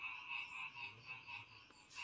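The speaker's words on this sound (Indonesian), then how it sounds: "tambah kenceng itu kodok" Frogs croaking at night, a faint but steady repeated chorus of calls pulsing in a regular rhythm at a distance, with no voices.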